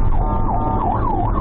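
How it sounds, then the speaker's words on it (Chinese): An ambulance siren wails continuously in traffic in Pingtung, Taiwan, its pitch rising and falling in a loud repeating cycle close by, over a low rumble of road noise. "救护车开在内线道不断鸣笛，但前方轿车就是不礼让"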